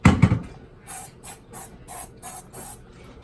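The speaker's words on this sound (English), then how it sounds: "I'm going to spread a little bit with some non-sticking spray, just a little" A knock and clatter, then six short hissing bursts from a can of non-stick cooking spray, evenly spaced and fairly close.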